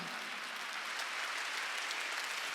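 A church congregation at a Wednesday worship service claps together, a dense, steady wash of applause that holds at even strength for a couple of seconds with no pauses.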